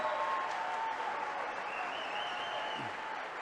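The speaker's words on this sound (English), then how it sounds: "Gotta let the applause." A crowd at a celebration weekend gives sustained applause that stays soft and distant, a steady wash of clapping with no talk over it.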